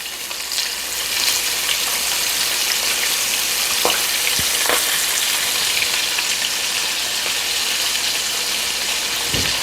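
Redear fish fry in a pan with bacon and chopped green onions, giving a steady, close sizzle and crackle that runs the whole time with a few sharper pops and no voices.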